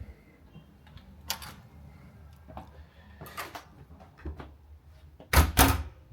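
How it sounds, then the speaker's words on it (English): A hotel room door opened with a key card, heard as a series of clicks, a latch clunk and a louder rattling thump near the end, close and fairly quiet, with no talking. "And here we have the hotel key card, and we will scan it"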